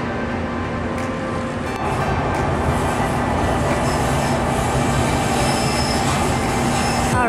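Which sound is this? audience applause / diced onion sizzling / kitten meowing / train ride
train ride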